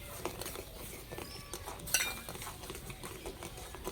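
Grated sweet potato being stirred and mixed with sugar and semolina, giving a soft, steady scraping and patter with faint clinks of a utensil against the container, close and quiet with no talk.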